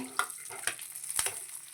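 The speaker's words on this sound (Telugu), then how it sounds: "ఒక స్పూను పుచ్చపప్పు అండి ఒక స్పూన్ వచ్చేసి తెల్ల నువ్వులు ఈ చక్కగా వేయించేసుకుందాము" Watermelon seeds and white sesame seeds fry in a hot pan with a soft steady sizzle, punctuated by a few sharp scraping stirs of a spoon, close and without talking.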